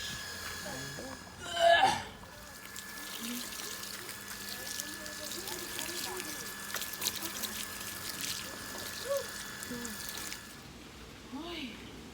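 Clothes being rinsed by hand in a basin of water, steady sloshing and trickling with one louder splash early on, continuing under close talking.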